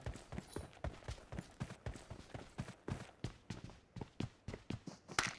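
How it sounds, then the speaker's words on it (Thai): Footsteps in the mobile battle royale game PUBG Mobile, a rapid, regular run of heavy thudding steps that stays close and fairly loud, with no voices over it. "เสียงเท้ามาแล้วครับ"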